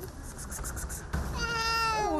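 A domestic cat meows in a zoo where pets are brought for sterilization. A run of short repeated cries is followed by one longer, rising drawn-out meow, close and clear over steady background noise, with no talking.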